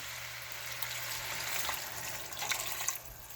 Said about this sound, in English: Now the last thing we are gonna add is some water.